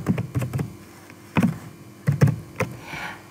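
A computer keyboard clatters with clusters of quick, close key taps in an irregular rhythm, with short pauses between bursts.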